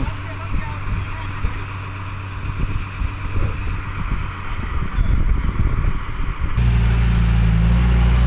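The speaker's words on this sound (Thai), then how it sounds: "วันนี้ลมแรงมาก" Strong wind buffets a microphone at a site where dump trucks unload clay, a rough low roar with gusty surges that turns into a steady, heavier rumble near the end.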